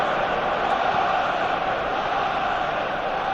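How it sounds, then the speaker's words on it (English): A stadium crowd in the football video game PES 2018 chants and roars as a steady, dense wall of sound, holding even throughout with no single voice standing out. "You can hear the crowd now in full voice"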